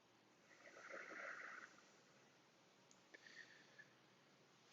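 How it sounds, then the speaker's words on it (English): Soft nasal Ujjayi breathing during a yoga flow, one long audible exhale followed by a shorter, fainter breath, close and quiet in a hushed room, with a sharp knock at the end. "Focus on that breathing through the nose, Ujjayi breath."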